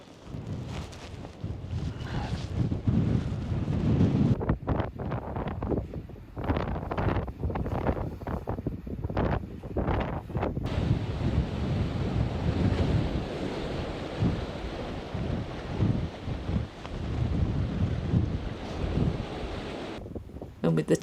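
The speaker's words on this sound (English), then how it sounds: "with the tide coming in and the wind whipping up" Gusting wind buffets the microphone while incoming tide waves wash and roar along an Irish Atlantic beach, a steady loud surf texture with intermittent voices talking over it.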